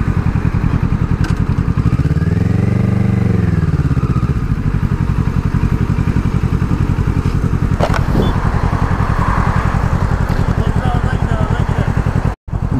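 Motorcycle engine running steadily while riding through traffic, a continuous mid-pitched drone throughout with a rising-falling tone from a passing vehicle early on, people talking over it.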